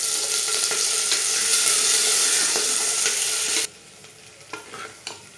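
Curry leaves crackle and sizzle loudly in hot oil for a Tamil green gram dhal gravy, a dense hiss that suddenly drops away to quieter stirring and faint pops.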